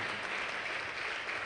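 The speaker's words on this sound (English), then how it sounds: "Please may the students rise on their feet and clap for this remarkable" Students standing and clapping at a green chemistry workshop, a dense, steady burst of crowd applause filling the room.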